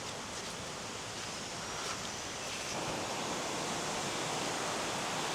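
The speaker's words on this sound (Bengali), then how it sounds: "সুন্দর একটা ঝর্ণা আছে।" A tall waterfall near a swaying hanging bridge on the route from Kiriburu to Meghataburu in Saranda, heard as a constant broadband rush of falling water that stays steady and fairly distant throughout.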